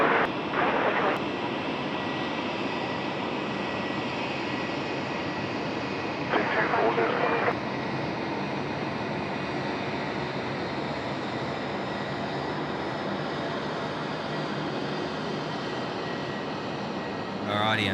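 A loud, steady roar of an airliner landing at Sydney Airport fills the whole stretch, broadband and continuous, with brief bursts of other noise layered over it.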